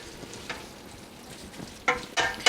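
Beef chili meat being stirred in a pot after black pepper is added, with a low steady sizzle and a few sharper scraping bursts of the spoon toward the end.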